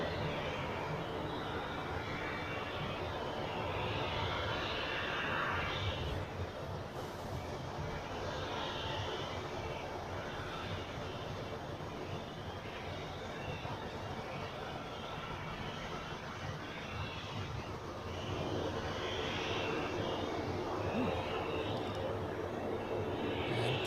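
A Pegasus airliner on the Istanbul flight lands on runway 14 at Zurich Airport, heard as a faint, distant, continuous jet rumble with soft swells and no clear peak.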